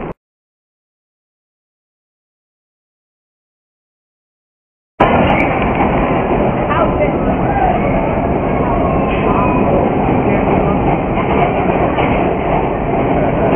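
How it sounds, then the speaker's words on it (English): A vintage New York subway Nostalgia Train on the V line rumbles along steadily after about five seconds of near silence, a loud continuous roar of wheels and car noise with faint clatter. "we're going to go on the Nostalgia Train"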